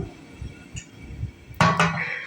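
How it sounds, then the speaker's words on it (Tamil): A metal cooking pot set down on a kitchen stove before making fish curry, giving a sudden close clattering clank after quieter faint kitchen noises. "பாத்திரத்தை வச்சுக்கிட்டாங்க"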